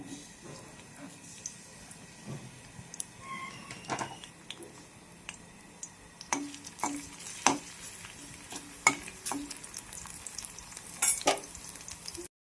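Garlic sizzles softly in oil in a pan for a colocasia stem bhaji, a quiet, steady hiss broken by sharp clinks and scrapes of a spoon that grow busier toward the end.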